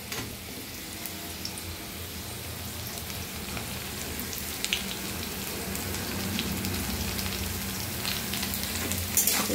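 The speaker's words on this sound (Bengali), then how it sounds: "এবার আমি এর মধ্যে কেটে রাখা পেঁয়াজটা দিয়ে দেবো।" Chopped onion fries with potatoes in oil in a pan, a continuous close crackling sizzle that grows slightly louder over time, broken by a few sharp spatula scrapes and clicks.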